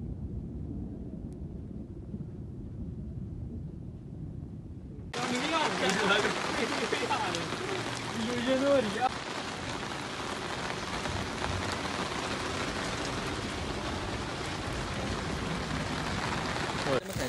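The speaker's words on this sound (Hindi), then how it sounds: "बाहर तो बहुत बारिश है बाबा," Heavy rain pounds down during a jungle thunderstorm, starting quieter and then swelling abruptly into a loud, dense, continuous downpour close by, with faint voices underneath.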